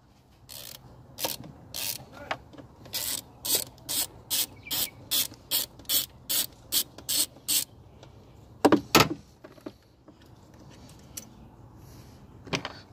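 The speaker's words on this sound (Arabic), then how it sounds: "بعدها نبتدي مفتاح 8 نفتح باقي بلوط البوابة الرئيسية" An 8 mm ratchet wrench loosening the bolts on a car's throttle body, a crisp run of about a dozen evenly spaced clicking strokes, then a short pause and a few more close, sharp ratchet bursts.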